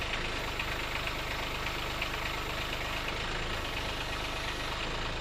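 A Kubota B2601 compact tractor's engine idles steadily, a loud, even, close rumble running throughout with no talking.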